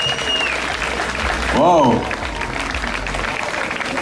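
An audience at a windsurfing freestyle and slalom prize-giving claps steadily throughout, with people talking over the clapping and one voice cheering loudly for a moment.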